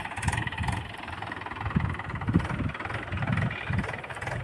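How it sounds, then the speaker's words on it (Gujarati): A tractor engine idles close by at a village groundnut field, a low, uneven chugging with periodic pulses and no talk. "ચાલો ભાઈ ટ્રેક્ટર આવી ગયું છે."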